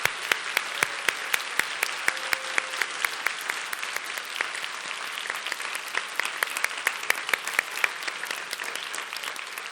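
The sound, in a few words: applause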